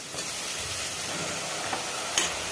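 Carrots are tipped into a pan where onion, green chillies and curry leaves are frying for a brinjal carrot sambar, giving a steady close hiss and sizzle with faint stirring and a brief sharp crackle near the end.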